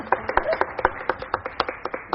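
A small studio audience on a talk show claps, producing sharp, distinct hand claps in a loose, uneven rhythm, fairly close and clear with quiet gaps between the strikes.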